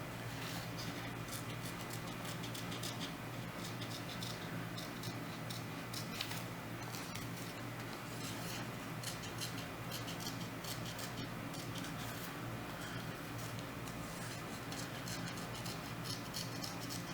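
Scissors snip through paper craft pieces for a 3D Piranha Plant, a soft, fairly quiet run of repeated cutting clicks over steady background hiss.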